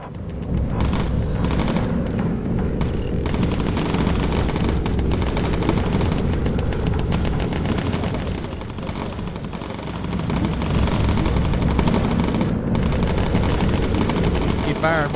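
Gunners on a bomber in the game Bomber Crew fire machine guns in dense rapid bursts that run almost without pause for fifteen seconds, loud and close. Voices are heard at times under the gunfire.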